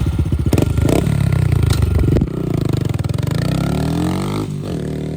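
A Grom motor fitted in a 2019 Honda CRF110f dirt bike runs loud and close, with a steady buzzing idle that rises into revs, plus some clatter along the way.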